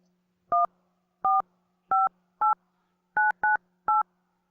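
Seven crisp keypad tones beep one at a time in an uneven rhythm over a faint steady hum, quiet and close.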